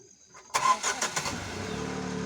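A car engine cranks and catches, then settles into a steady running hum as the car moves off, loud and close after a brief quiet start.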